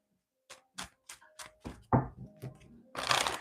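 A series of quick, crisp tarot card snaps tapping out in a steady rhythm, ending in a dense rustling riffle as the deck is shuffled up close.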